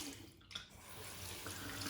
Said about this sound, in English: Rinse off the razor, I'll clean that in a minute.